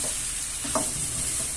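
Onions being sautéed in a pan for a spinach and egg dish, a steady close sizzle with a few stirring scrapes, no voices.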